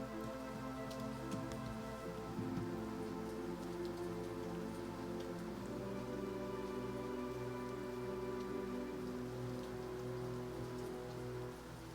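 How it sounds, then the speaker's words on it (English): Rain falls steadily outside an open window, a soft constant patter with faint scattered drops, heard at low level behind a steady tonal background hum and with no talking. "It's raining right now."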